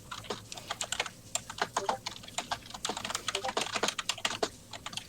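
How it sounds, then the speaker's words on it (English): Rapid, furious typing on a computer keyboard clatters close by in a dense, uneven stream of sharp key clicks, with faint background voices underneath. "I hear furious typing"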